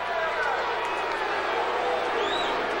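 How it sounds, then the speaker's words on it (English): A large Clemson football stadium crowd at a 1994 game against Georgia Tech, a steady dense roar of voices reacting unhappily to a call, loud and continuous with no breaks. "Clemson crowd not happy with the call"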